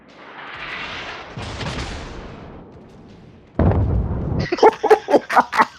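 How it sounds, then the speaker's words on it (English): Naval artillery fires and shells explode in a World of Warships battleship match, with a long booming roll and then a heavy blast followed by several sharp, loud detonations in quick succession. "We're blowing stuff up."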